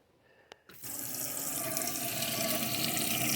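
Water gushing from a tap inside an RV. It begins after a couple of sharp clicks and then runs as a loud, steady, hissing stream that continues to the end.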